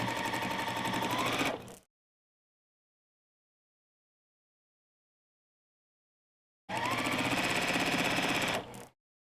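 A sewing machine runs in two loud, steady bursts near the mic, the first lasting under two seconds and the second about two seconds, separated by roughly five seconds of silence.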